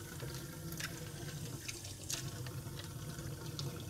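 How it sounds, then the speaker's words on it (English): Reverse osmosis water runs from a tap in a steady, close splashing stream to rinse a water meter, with no talk. "We rinse our meter off."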